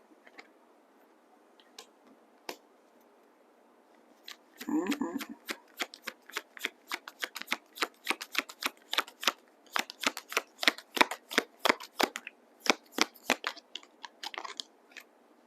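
Tarot cards shuffled by hand, a short riffle burst followed by a long run of quick, crisp card flicks and slaps, close and fairly loud, with faint isolated taps before it.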